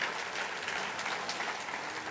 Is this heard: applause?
yes